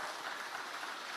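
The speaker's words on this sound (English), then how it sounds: "Let's give a round of applause to our" Audience at a tech innovation conference session applauding its facilitators, a steady dense wash of clapping throughout, loud and continuous with no pauses.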